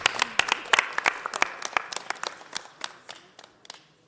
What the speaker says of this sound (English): Let's give the ladies another round of applause, the champions.